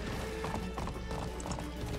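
Horse hooves in the online game Alicia Online, a quick, continuous clip-clop of a galloping horse in steady rhythm over a dense background.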